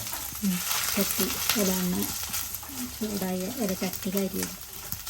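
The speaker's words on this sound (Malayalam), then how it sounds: "ആ എണ്ണ ചൂടായിട്ട് തേങ്ങ വറക്കുകയാണ്" Grated coconut frying in hot oil in a thick pan over a low flame, a steady broadband sizzle running throughout, with a voice talking over it almost continuously.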